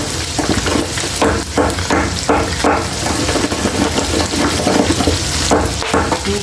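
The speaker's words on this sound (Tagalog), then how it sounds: "prito natin yung atay para hindi siya madudurog at saka hindi malansa" Liver sizzles and spatters as it fries in a hot pan, with intermittent scraping and stirring clatter throughout.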